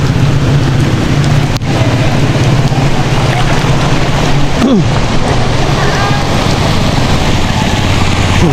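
Steady heavy rain hisses continuously throughout during flooding, loud and dense, with a low rumbling drone underneath and a couple of brief knocks.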